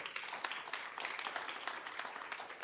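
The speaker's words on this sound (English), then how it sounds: "So a big round of applause, please." Applause from an audience at a Brownsville, Texas entrepreneur meetup, a steady, fairly quiet wash of many hands clapping throughout with no speech over it.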